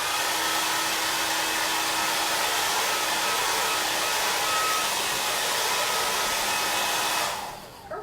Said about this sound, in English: I'm actually going to take my hair dryer real quick and just give it a quick dry on the back.